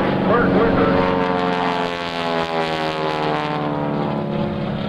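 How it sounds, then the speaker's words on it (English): A Boeing PT-17 Stearman biplane flies overhead at a naval air station airshow, its propeller engine droning loud and steady throughout with a sustained rich harmonic tone. "is flying the airplane that they call the Beast. This is a PT-17 Stearman."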